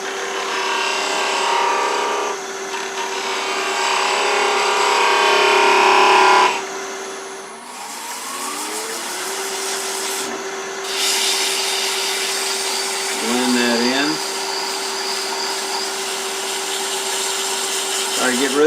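A skew chisel cuts wood on a spinning lathe: a loud, steady motor whine with a constant tone and a rough, hissing cutting noise that rises and fades as the tool touches the workpiece, with brief pauses.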